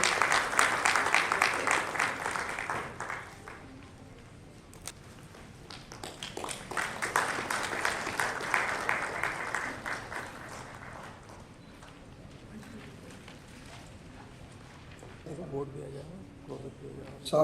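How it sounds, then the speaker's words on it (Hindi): A crowd at an award ceremony for educators claps to welcome a guest onto the stage, with bursts of dense clapping that swell, fade, then rise again before dying away into murmurs and a voice near the end. "जोरदार तालियों से उनका स्वागत करेंगे।"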